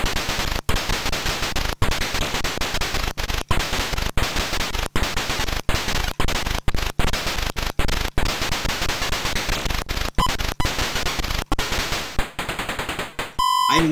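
Nearly continuous harsh, noisy blasts of gunfire in an MSX2 video game, loud and relentless with brief dropouts between volleys, ending in a couple of electronic beeps.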